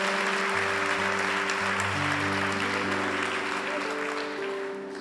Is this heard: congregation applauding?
yes